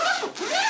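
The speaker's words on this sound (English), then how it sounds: "It zips very nicely." Metal zipper on an Adorama 24/7 messenger bag drawn closed in one smooth, close, continuous zip lasting under a second, with a brief dip midway.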